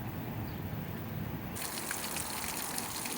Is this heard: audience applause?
no